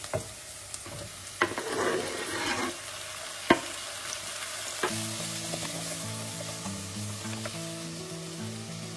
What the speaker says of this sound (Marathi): आम्ही आता बरे फ्राय करूया अनियन टोमॅटो सारखे सॉफ्ट जाऊन